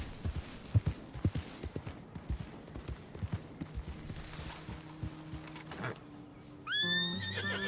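Horses in the Red Dead video game clop along in an uneven, busy rhythm before a loud, clear whinny rises near the end. A few other game noises sit underneath.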